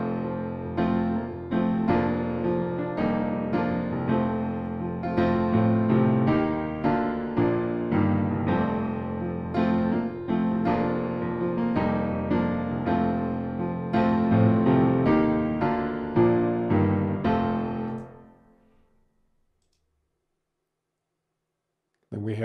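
A sampled Blüthner grand piano, the VSL Synchron library heard through an intimate surround-to-stereo preset, plays a dense flowing passage of chords and runs for about eighteen seconds, then rings out into silence.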